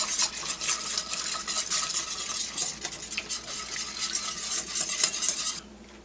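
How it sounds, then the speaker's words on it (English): A whisk clatters briskly and steadily against a metal pan while beef broth is stirred into an onion mushroom gravy, a close, busy scraping and tinkling that stops near the end. "beef broth in. Some whisk action"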